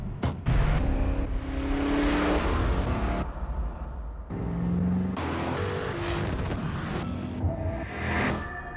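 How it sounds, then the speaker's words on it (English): A 429-horsepower Genesis R-Spec sedan accelerates in a TV advert. The engine surges loudly in several powerful bursts separated by brief drops, with no talking. "The 429 horsepower Genesis R-Spec."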